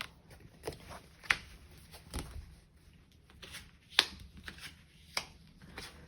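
Tarot cards are handled and drawn from a deck, making a sparse series of soft, close card snaps and flicks with quiet pauses between them.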